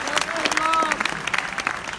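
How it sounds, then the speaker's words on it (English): An audience at a Los Angeles Clippers basketball team event claps in a brief burst of applause, moderately loud, with a voice talking over the clapping. "Yeah, we can still clap."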